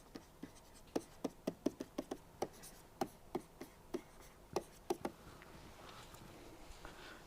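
Marker or chalk writing out equations during a reliability engineering lecture: a quick series of sharp taps and short strokes, close and fairly faint, then a quieter stretch.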